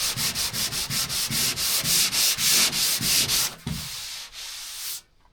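Hand sanding of a cedar strip canoe, about a dozen rhythmic rasping strokes close by, then a longer smooth rub before it stops, with no voices.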